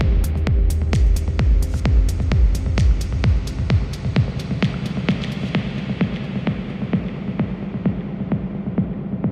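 A synthetic droning hum with steady rhythmic pulses that smear and fade into a reverberant wash as the sound slowly dies away, a reverb transition effect on a Push 3 performance mixer.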